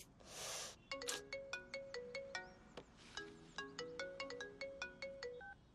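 A mobile phone ringtone plays a bright repeating electronic melody of short tonal notes in regular phrases, heard clearly but quietly in a room after a brief rustle, with no one speaking.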